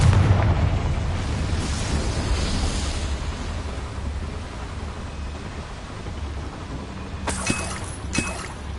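A Confringo blasting spell goes off in a video game with a broad rumbling blast that decays into a long roaring wash, followed by a couple of sharp crackling bursts near the end.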